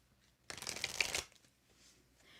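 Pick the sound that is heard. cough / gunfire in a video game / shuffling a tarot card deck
shuffling a tarot card deck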